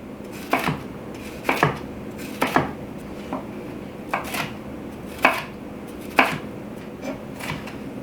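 A knife chops vegetables, including pepper, into rough bite-size pieces on a board, about a dozen crisp, separate thuds in an uneven rhythm, close and distinct, with no speech.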